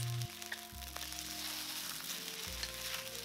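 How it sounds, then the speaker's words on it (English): Chicken stir-frying in hot oil in an iron wok for pad see ew, a loud steady sizzle and crackle close up, with occasional scraping stirs and no one talking. "Now stir fry until completely cooked for about 3 minutes."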